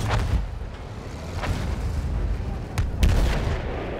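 Artillery shells exploding in a Battlefield 1 World War I campaign battle, a continuous rumble of heavy booms with sharper blasts near the start and toward the end.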